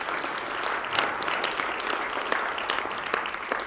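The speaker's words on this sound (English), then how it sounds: "So a round of applause for them as well." Steady audience applause at an event with many hands clapping together in a dense, even wash, moderately loud and continuous for several seconds with no voices on top.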